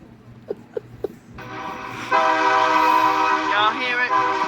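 A train sounds its horn in a long, loud blast of stacked harmonic tones that rises and holds, then wavers near the end, preceded by a few short knocks and quiet background murmur.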